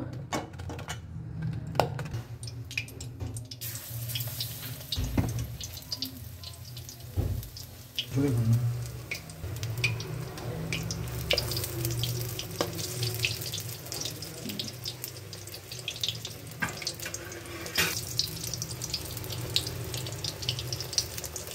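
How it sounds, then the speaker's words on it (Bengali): Begunis, long battered eggplant fritters, deep-fry in hot oil, giving a continuous close hiss with fine bubbling crackle over a low background hum that lasts the whole stretch. "এবার বেগুনি ভেজে নেব।"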